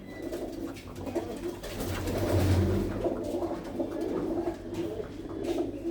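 Blue-footed pigeons coo in a loft, with several low, rolling coos overlapping steadily and close by, a fuller burst in the middle and soft rustling underneath.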